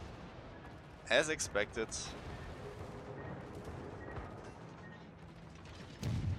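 Distant naval gunfire from an enemy ship in World of Warships, a quick cluster of several booming shots early on and another near the end, with mechanical clanks and a voice speaking over the faint background.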